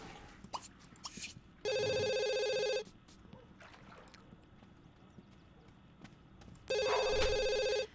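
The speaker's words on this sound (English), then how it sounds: "Why don't you answer the phone?" A telephone in The Sims 2 rings in two long electronic bursts over a quiet household background of small clicks and shuffling, with a voice murmuring faintly.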